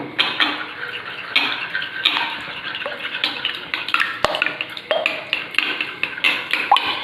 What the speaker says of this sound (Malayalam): ഇത് നന്നായിട്ട് നമുക്കൊന്ന് അടിച്ചെടുക്കാം